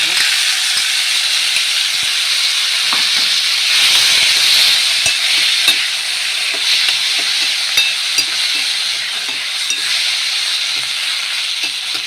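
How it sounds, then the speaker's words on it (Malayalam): Lemon pieces cook on a hot tava for lemon pickle, giving a steady, close sizzle and hiss with occasional stirring scrapes and small clicks throughout. "ഇനി നമ്മുടെ വേണ്ട നാരങ്ങ അതിലേക്ക് ചേർത്ത് കൊടുക്കാം"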